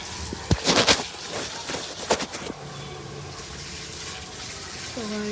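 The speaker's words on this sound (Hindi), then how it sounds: "पौधों को पानी दे दिया है मैंने" Water splashes onto garden plants as they are watered, starting with a few loud gushing bursts before settling into a steadier, softer flow.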